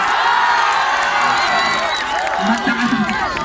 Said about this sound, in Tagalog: Hihiling ako ng palakpakan may kasama sigaw